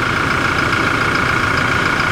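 Steady idle of a Toyota Hilux pickup truck's diesel engine, close and continuous, a low rumble with a faint rhythmic clatter.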